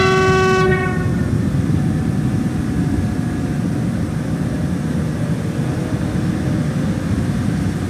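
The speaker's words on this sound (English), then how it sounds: "First up is the DB BR401 or ICE 1" A DB BR401 ICE 1 high-speed train in Train Simulator sounds a brief loud horn blast at the start, then runs on as a steady, loud rumbling roar.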